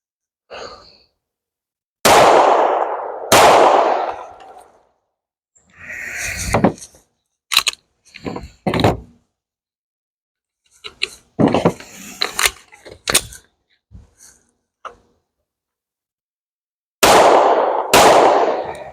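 Pistol shots fired through a Radian Ramjet muzzle compensator, then a Parker Mountain Machine comp: sharp, loud reports in pairs, the first two early on and a final pair at the end, with talk between them.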